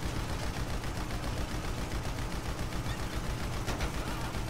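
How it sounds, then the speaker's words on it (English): Continuous, dense gunfire from a GTA 5 shootout aimed at a van, a steady loud rattle of automatic shots with no pauses over the whole stretch. "Shoot the van on the left, bro."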